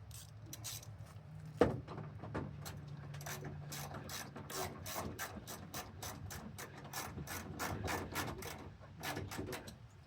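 Rapid clicking of a 10 mm ratchet snugging up the fasteners on a Husky wheel well liner in a 2015–2020 Ford F-150, with one sharp knock near the start and steady close ratcheting bursts throughout.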